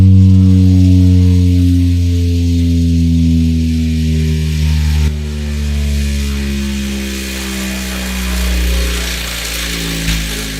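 A B2 Audio Rampage 12 Elite subwoofer being cranked up on test tones, producing a loud, continuous deep hum with stacked buzzing harmonics that rise and shift in pitch, heard alone without talk.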